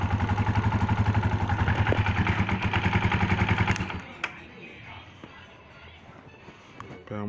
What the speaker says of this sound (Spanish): Ahora podemos ver que la moto prende